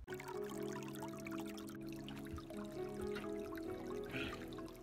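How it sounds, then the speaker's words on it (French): Water pours steadily into a bathtub being filled as a drinking trough for horses at a stable, a continuous close rush with a low hum underneath and no talking. "je vais juste leur remplir la baignoire"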